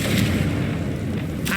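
A Confringo spell blast from Hogwarts Legacy: a dense, rumbling boom that fills the clip with sustained low-end roar and crackling bursts, loud and continuous throughout.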